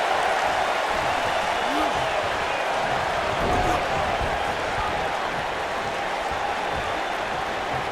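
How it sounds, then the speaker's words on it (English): A roaring arena crowd cheers in WWE 2K19, a dense, steady wall of noise throughout, with commentary voices faintly underneath. "I don't remember the last time I heard a more passionate crowd than the one we have here tonight"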